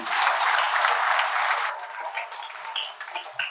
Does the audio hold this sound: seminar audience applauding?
yes